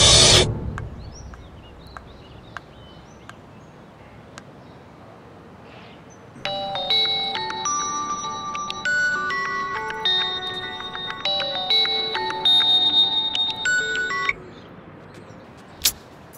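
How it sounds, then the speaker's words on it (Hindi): An electronic ringtone plays a repeating high-pitched melodic pattern for several seconds after a short sharp burst at the start, with a brief click near the end. "राधे फोन काहे नहीं खन उठावत?"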